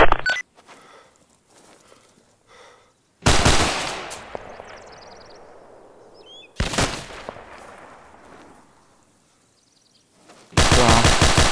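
Loud, sharp gunfire bursts in a video game erupt in three separate volleys, each cracking hard then trailing off into a long echoing decay, with near silence between.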